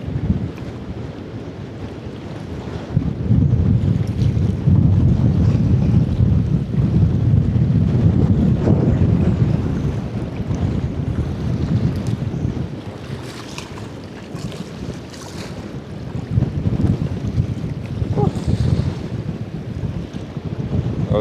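Steady wind roars and buffets around a small fishing boat on open water, with gusts swelling loudest in the middle and again near the end, and low rumbling microphone buffeting throughout.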